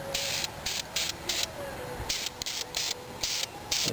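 Ceramic paint sprayed from a can onto cast iron headers for a Dodge RV in short, close bursts of hissing spray, roughly a dozen quick pulses with brief pauses between them.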